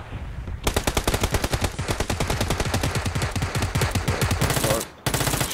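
Rapid automatic gunfire in the PUBG video game, a long, loud burst of evenly spaced shots that runs for several seconds, then a short pause and a resumed shot.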